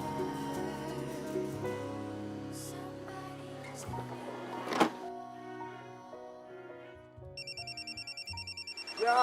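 A phone ringtone plays a melodic tune with a thump partway through, then a telephone rings in repeated electronic trills near the end, with no talk.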